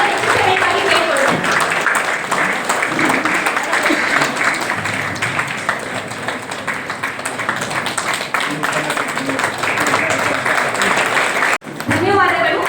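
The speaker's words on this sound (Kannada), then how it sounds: "ತಮ್ಮ ಚಪ್ಪಾಳೆಯ ಮೂಲಕ" Audience applause at an Addiction Free Day celebration in Ankola, a long run of crowd clapping mixed with voices and chatter, steady and fairly loud before a brief break near the end.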